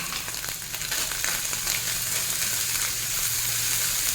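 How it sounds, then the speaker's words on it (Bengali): Mourala fish heads fry over a high flame, giving a dense, loud, unbroken hiss of hot oil that stays even from start to finish, close up and with no voices. "ফ্লেমটা হাইয়ে আছে বলে দেখুন মাছটা অলমোস্ট ভাজা হয়ে গেছে।"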